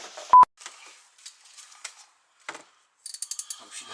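Ratchet wrench with a socket being worked while changing a car clutch, with short bursts of quick clicking ratchet turns and metallic taps, close and fairly quiet.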